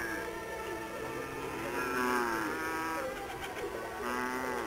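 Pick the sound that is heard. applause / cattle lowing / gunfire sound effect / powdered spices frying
cattle lowing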